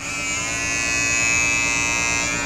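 Electric trimmer buzzing steadily and loudly up close while it takes stray hairs off a face, a continuous high whine with no talk over it.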